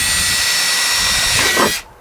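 An 11/32 drill bit bores a hole through a plastic bucket for a poultry nipple waterer, a loud, close, continuous hissing grind lasting under two seconds before cutting off sharply.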